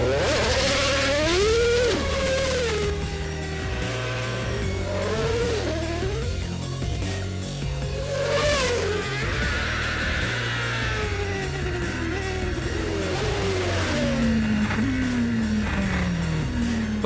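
A Formula 1 race car engine in Holland revs loudly and continuously, its pitch rising and falling in repeated sweeps.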